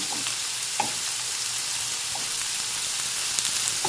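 Korean pork belly samgyeopsal frying in oil, a steady close sizzle and crackle with occasional pops, no talking.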